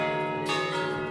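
A McShane bell rings with a rich, sustained metallic tone whose overtones hang in the air and swell once as it is struck again, alone and resonant.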